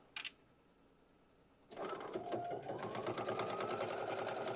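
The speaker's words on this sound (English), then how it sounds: "setting it under and just sewing the 1/4 inch" After a brief click and a quiet pause, a sewing machine starts stitching a quarter-inch seam and runs steadily, with a fast, even mechanical whir that is close and moderately loud, with no talking.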